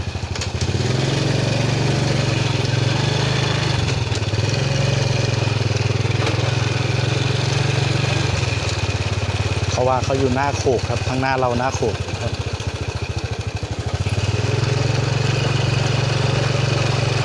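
A motorcycle engine runs steadily throughout under someone talking close by, with the motor's drone loud and constant and a brief burst of higher revving in the middle.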